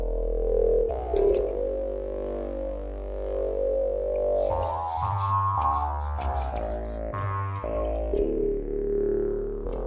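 Gritty, distorted synth patch built in NI Massive, playing a thick buzzing bass riff in chunky repeated phrases with growling filter sweeps, loud and upfront with no voices.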